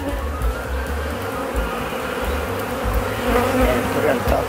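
Honeybees hum thickly and continuously close by while a beehive is opened and split at an apiary, with a dense, slightly wavering buzz throughout.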